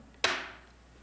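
A single sharp clap of a clapperboard snaps once, crisp and close, then fades quickly into quiet room tone.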